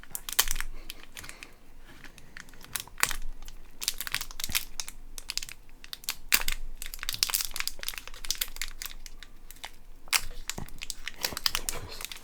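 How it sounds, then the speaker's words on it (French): Foil wrapper of a Pokémon Lost Origin booster pack crinkles and crackles continuously and close up as someone struggles to tear it open. "c'est la première fois que je galère autant à ouvrir un booster"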